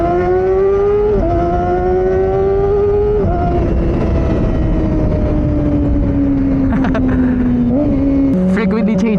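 Kawasaki ZX25R motorcycle screaming up toward 16,000 RPM, a loud rising whine broken by pitch drops at each gear change and auto-blip, with a voice talking over it throughout.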